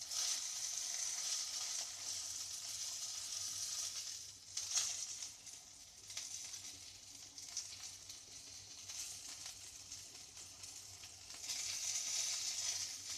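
Sausage frying in a pan: a steady, close hiss and sizzle that swells and fades in bursts, with faint crackles throughout and no talk.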